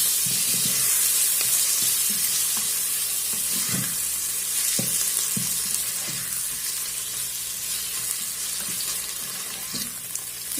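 Chicken sizzles as it cooks in a pot for a rice dish with sausages, a constant hissing crackle with intermittent low thuds and scrapes of stirring and no voices.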